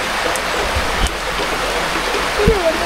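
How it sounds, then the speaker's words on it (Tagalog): Steady rain falling outdoors, a dense continuous hiss of drops filling the whole stretch, with a couple of faint knocks and brief voice sounds in the background. "Umuulan na naman."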